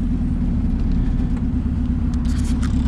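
A turbocharged Honda D16 engine boosting to 16 psi, with Vitara pistons, runs hard from inside the car, a loud steady low rumble throughout, with brief higher whooshes toward the end.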